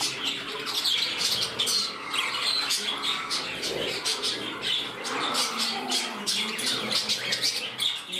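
A small pet bird in a home calls with repeated shrill squawks and chirps, fairly close and steady throughout, with no talking.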